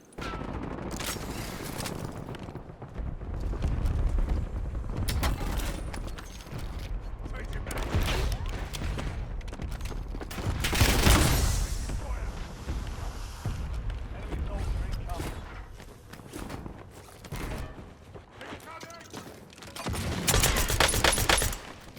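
A gun in a video game fires in repeated automatic bursts mixed with other battle gunfire and booms, continuous and fairly loud, while a person talks over it.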